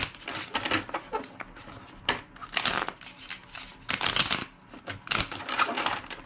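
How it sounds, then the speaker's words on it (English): Papery tarot cards riffled and shuffled in bursts, several quick crisp flurries close by with brief pauses between them. "Two more shuffles."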